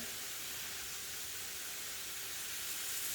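Onions cooking in a pan with sauce and mushrooms, giving a soft, steady hiss of sizzling that stays constant and fairly quiet from start to finish.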